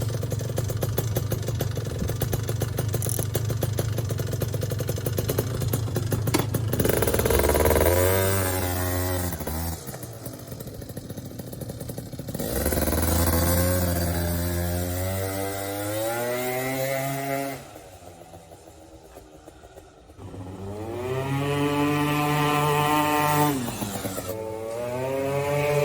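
A Yamaha BWS scooter with a Malossi engine build running on a test ride, its two-stroke engine buzzing and revving up and down in repeated rising pulls, loud and close, dipping briefly near idle before climbing again.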